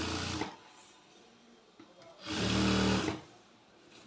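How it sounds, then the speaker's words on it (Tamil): A sewing machine stitching a maxi skirt runs in two short bursts, the second longer, with a whirring motor and rapid needle clatter close by, separated by quiet pauses. "நான் வந்து படிமான தையல் போடுறேன்."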